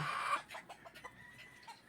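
A hen clucks briefly up close, a sharp call at the start followed by softer scattered clucks in a quiet yard.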